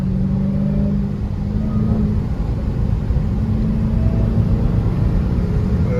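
Dodge Hellcat V8 fitted with a K&N air filter, a loud, close, continuous engine rumble held steady at elevated revs with a faint tonal whine running underneath, and no talking.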